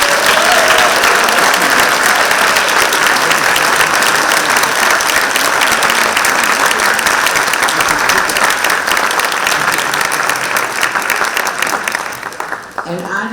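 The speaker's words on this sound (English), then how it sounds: "would you please give all of our students a round of applause?" A winter harp concert audience claps for the harp students, dense and loud throughout, then thinning toward the end as the clapping dies down.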